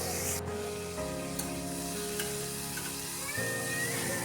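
Everything frying together in a pan without onion gives a loud, continuous close sizzle with a few faint scrapes of stirring, with no voices.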